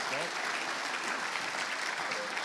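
An audience claps steadily for a speaker at a contact centre industry presentation, a dense, even wash of applause that holds throughout.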